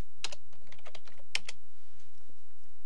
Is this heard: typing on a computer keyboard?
yes